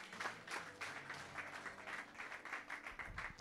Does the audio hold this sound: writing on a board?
no